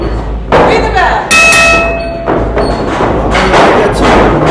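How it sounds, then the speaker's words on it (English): Wrestling ring bell struck at the start of a tag team championship match, several loud metallic clangs with ringing overtones amid crowd noise and an announcer's voice. "Ring the bell."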